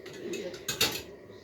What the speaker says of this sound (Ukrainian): мама там посуд прибирає